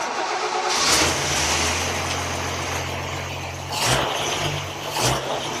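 A Toyota FJ40 engine fitted with Holley Sniper EFI cranks and fires, settling into a steady, loud idle nearby, with brief blips of revving toward the end.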